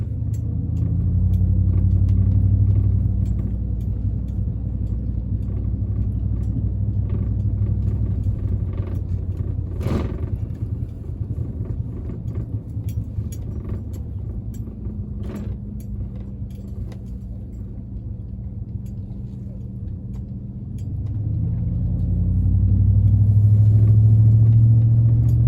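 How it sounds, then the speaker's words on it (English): Engine of a 2010 Chevy Avalanche LT rising and falling as it shifts through the gears while driving, a low rumble that swells at the start and again near the end, with road and cabin noise underneath. "Just let it roll through the gears, let you watch the RPMs and hear it"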